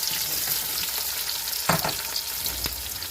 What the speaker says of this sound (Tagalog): Gisa lang natin ang mabuti. Tapos ilagay na natin yung ating pork.